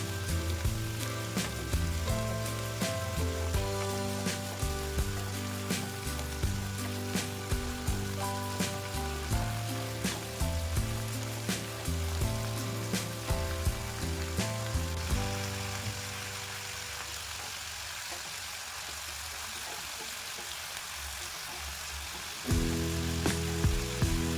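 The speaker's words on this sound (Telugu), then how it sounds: "టమాటా పచ్చిమిర్చి తగినంత చింతపండు వేసుకొని దూరగా వేపుకోవాలి" Tomato, green chillies and tamarind with onions frying in hot oil in a pan, a steady crackling sizzle with rhythmic stirring clicks, then a quieter stretch before the sizzle returns near the end.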